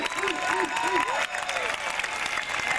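Crowd at an outdoor comedy show in Sacramento's William Land Park applauds the children's entertainers, a clown among them, with steady clapping and faint cheering. A voice and tonal sounds ride over the start.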